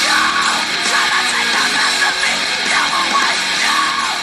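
A song plays loud and dense, with distorted guitars and aggressive, shouted vocals filling the whole stretch without a break.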